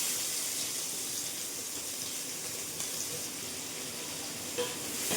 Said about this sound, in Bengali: পেঁয়াজটা দিয়ে একটু ভাজা ভাজা করে নেব